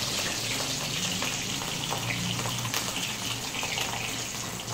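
Fish frying in hot oil, a steady, loud, dense sizzle and crackle filling the whole stretch without a break.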